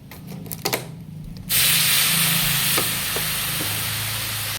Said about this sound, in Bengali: এবার এর মধ্যে আমি দিয়ে দেবো অল্প করে জল